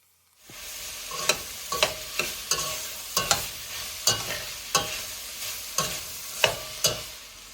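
Celery and onion sauté in a pot for chili over low heat, a soft steady sizzle broken by a dozen sharp scrapes and clacks of a spoon stirring, close and alone without speech.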